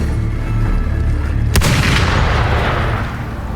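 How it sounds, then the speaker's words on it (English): Gunfire in the Wuthering Waves video game, heard as a loud sharp crack that booms and rolls out over a dense, continuous rumbling backdrop of battle noise. "Gunfire!"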